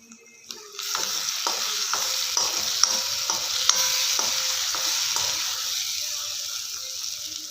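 An onion mixture for onion bread sandwiches frying in oil, stirred with steady, evenly spaced scraping strokes over a continuous close sizzle that fades slightly near the end.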